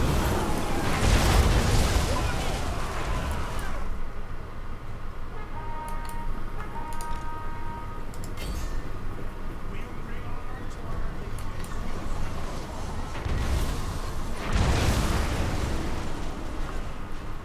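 Artillery fire and explosions on a Total War: Warhammer battlefield, with heavy booming bursts near the start and again near the end over a constant rumbling battle din, and someone talking throughout.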